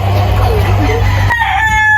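Chickens clucking loudly and close, a busy cackle that ends abruptly, with faint voices in the background.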